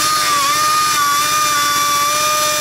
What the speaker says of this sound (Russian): Режем бампер.